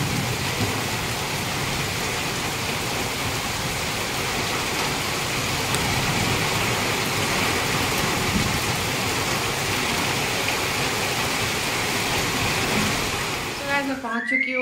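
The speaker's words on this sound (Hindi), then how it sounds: "बारिश का स्पीड बहुत ज़्यादा बढ़ गया है, कम नहीं हो रहा, बढ़ते जा रहा है" Heavy rain pours down in a steady, dense, loud wash that continues unbroken for the whole stretch, with a brief shift in the texture right at the end.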